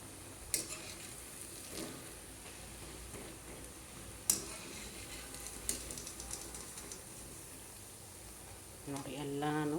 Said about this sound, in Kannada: ಎರಡು ಸೈಡ್ ಚೆನ್ನಾಗೇನಪ್ಪ ಅಂದ್ರೆ ಗೋಲ್ಡನ್ ಬ್ರೌನ್ ಆಗೋವರೆಗೂ, ಒಳಗಿಂದೆಲ್ಲ ಹಸಿ ಹೋಗೋವರೆಗೂ ಚೆನ್ನಾಗಿ ಹುರ್ಕೋಬೇಕು.